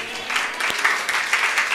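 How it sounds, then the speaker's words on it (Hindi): A church congregation claps during a sermon, a brief burst of steady, fairly close applause with a crisp, even patter. "मैं यूं ही तालियां नहीं बजवा रहा हूं"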